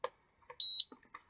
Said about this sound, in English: Right, so that's beeped